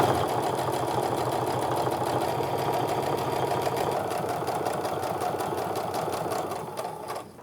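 Sewing machine running steadily as it stitches a second line down a canvas and cork wristlet, a fast even mechanical whir held loud and close for several seconds before easing off at the end.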